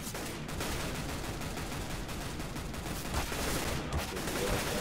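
Dense first-person shooter gunfire at a Counter-Strike style LAN match, steady bursts of shots with no pauses, loud and continuous beneath faint commentary.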